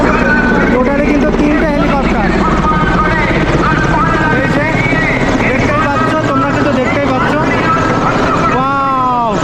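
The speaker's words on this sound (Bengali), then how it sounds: "আর এটা হচ্ছে আরেকটা হেলিকপ্টার" A helicopter passes overhead during a Narendra Modi visit in Krishnagar, its rotor and engine roar loud and steady under a busy crowd of voices, with a rising-falling whine near the end.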